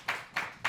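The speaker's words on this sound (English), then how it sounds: "give yourselves a round of applause out here doing poems" Three evenly spaced handclaps at a poetry session, close and moderately loud, each a short sharp burst.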